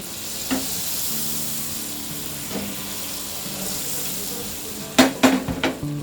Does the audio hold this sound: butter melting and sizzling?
yes